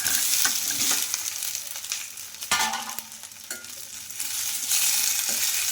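Cooled idli rava is stirred and tossed into a sizzling tempering in a pan, with steady frying hiss and occasional scraping clicks of a spoon, no voices.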